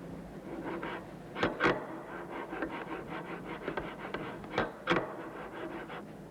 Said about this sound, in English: Finally, the valve housing's mating surfaces are ground as well.